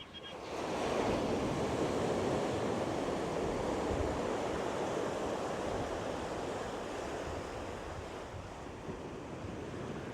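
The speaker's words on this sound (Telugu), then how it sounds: "దూరంగా అయితే వాటర్ రాళ్ళకి తగిలి మంచులాగా ఎగురుతున్నది." Sea waves crash onto the rocks at Uppada beach, a steady roar of surf mixed with gusting wind buffeting the microphone, loud and continuous throughout with no talk.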